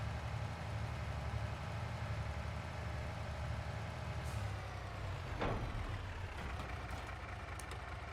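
An old Mack truck drives in Farming Simulator 22, its engine a steady low drone that runs through the whole clip, with a couple of brief higher hisses and clanks near the end.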